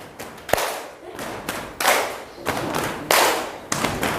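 Students in a coding and artificial intelligence class clap their hands in sequence, one after another, producing a series of sharp, close claps and thumps at uneven intervals in an indoor classroom.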